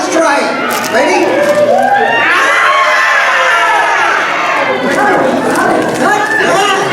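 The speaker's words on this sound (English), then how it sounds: "You will make a female scream." A roomful of cafe guests seated at tables during a murder-mystery game, shrieking together in a loud, sustained group scream mixed with excited chatter and whoops.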